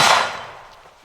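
A Turknelli shotgun, a Benelli M4 clone, fires a single loud blast at the start, and the report decays quickly into a fading echo.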